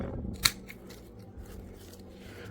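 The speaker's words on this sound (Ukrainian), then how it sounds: "Так, рахуємо 1, 2 і обрізаю." Shears make one sharp snip through the stem of a potted blueberry seedling, a crisp close click followed by quiet handling.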